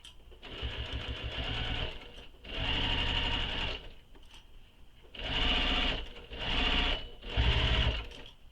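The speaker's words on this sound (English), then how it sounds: "So stitching all the way across using the seam allowance given in the pattern." Sewing machine stitching across a bag seam, running close and steady in five bursts with brief pauses between them.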